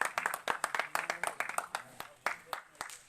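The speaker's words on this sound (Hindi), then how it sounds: "चलिए ताली बजाइए एक बार" A small crowd clapping hands at a gathering, sharp, irregular claps in a loose rhythm, close and distinct, with some voices faintly beneath.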